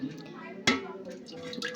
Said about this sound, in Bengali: এবারে আমি এর মধ্যে দুধ দেব।